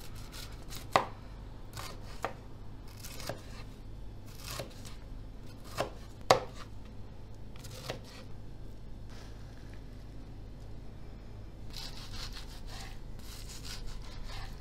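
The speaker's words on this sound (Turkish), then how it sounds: "Patatesi, havuçlarımızı da doğradık. Ben kuşbaşı şeklinde doğradım." Steady rhythmic knife chopping of potatoes and carrots on a cutting board, with sharper, louder strikes now and then and a brief quiet stretch before the cutting resumes.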